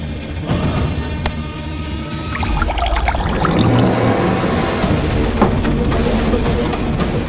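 Water is poured into a glass indoors, a rising, gurgling trickle that swells as the glass fills, heard against a busy background from a television drama scene.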